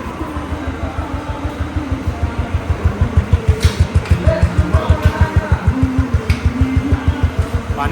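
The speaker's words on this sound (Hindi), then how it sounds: "अब दोनों गाड़ी का साउंड को सुनिए और बताइए कि इसका साउंड कितना अलग है एक दूसरे से" A Royal Enfield Interceptor 650 twin-cylinder motorcycle runs after an engine rebuild with the old block and pistons. It idles close up with a steady rhythmic thump that grows louder and more pronounced partway through.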